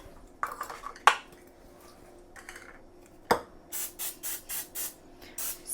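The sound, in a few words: cooking spray (Pam) sprayed onto hands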